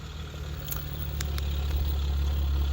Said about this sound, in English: A lot of nice loud trucks coming through, providing some texture